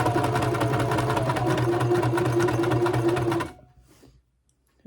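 A sewing machine chain stitching quilt pieces runs in a fast, steady mechanical whir with a rapid needle rhythm for about three and a half seconds, then stops abruptly, leaving near silence.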